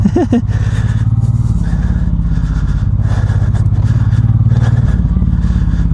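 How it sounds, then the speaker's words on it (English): A Honda VTX motorcycle rides off-road on a sandy forest track, its engine making a loud, steady, low rumble close by, with a brief voice at the start. "in the forest riding the VTX is superb"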